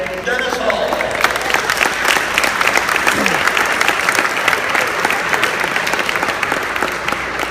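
A conference audience at an insurance association's provincial gathering gives sustained, loud applause welcoming speaker Dennis Hall. Dense clapping fills the room throughout, with a few faint voices underneath.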